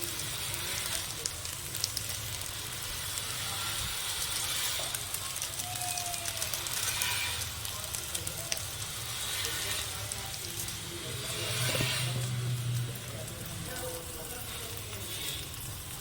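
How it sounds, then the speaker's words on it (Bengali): Masala seasoned with Maggi masala frying in a pan while making a sandwich filling, a steady soft sizzle and crackle continuing throughout, close and moderately loud with no talk. "মশলাটা আমার ভাজা ভাজা হয়ে গেছে,"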